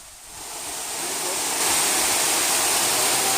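The Selendang Bidadari waterfall in Pati, Central Java roars as a loud, steady rush of falling water, close by and swelling slightly louder partway through, with no pause or break.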